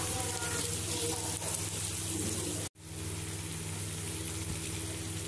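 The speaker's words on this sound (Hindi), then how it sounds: "टमाटर भी मैंने डाइस शेप में ही काटे हैं और इसको अच्छे तरीके से भूनूंगी कि टमाटर जो हैं वो गल जाएं।" Diced tomatoes frying in a pan with bay leaf, black cardamom and cinnamon, giving a steady close hiss and sizzle that drops out for a moment partway through and then carries on evenly.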